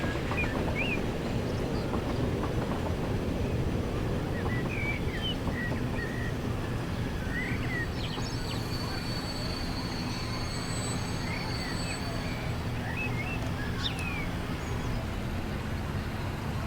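A train passes in Transport Fever 2 with a continuous rolling rumble and wheel noise, steady and moderately loud throughout, with faint squeals and chirps above it.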